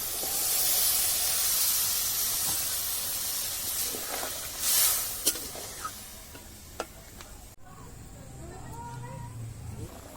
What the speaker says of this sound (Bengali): কাঁকড়াটা মশলার সাথে ভালো করে কষিয়ে নেবো হয়ে গেছে এবার জল দিয়ে দেবো